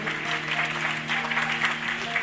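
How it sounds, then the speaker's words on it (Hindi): Audience applause at a religious education campaign launch ceremony, a steady, dense wash of clapping from a large crowd throughout, with a faint low hum underneath. "तालियों से स्वागत करें"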